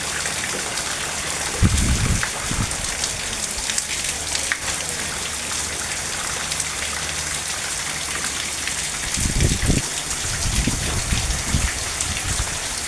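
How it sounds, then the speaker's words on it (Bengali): Steady rain pours down in a continuous hiss, with a few heavier low rumbling bursts of drops or runoff now and then. "বৃষ্টি পড়তেছে কিন্তু এখনও কোনো ঠান্ডা মনে হচ্ছে না"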